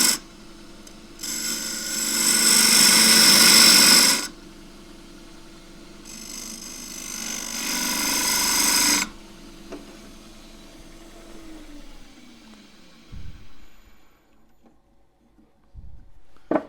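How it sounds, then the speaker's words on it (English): A 3/8 spindle gouge cuts a taper into wood spinning on a lathe, giving two loud, sustained rasping bursts of a few seconds each with a gap between. The lathe then winds down in a falling hum, followed by a few faint knocks. "In with the 3/8 spindle gouge, cutting a taper to start with."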